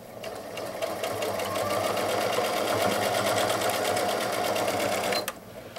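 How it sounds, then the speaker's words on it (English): A Janome DC1050 sewing machine stitches up and over a thick jean seam, running in a steady, rapid mechanical whir for about five seconds before stopping abruptly. "you'll see here how easily this machine navigates up and over that jean seam"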